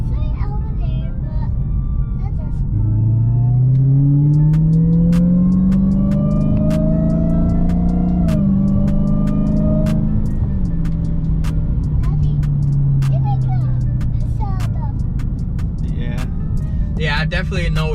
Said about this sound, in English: There definitely is a big difference in the Supercharger noise once you put on a different intake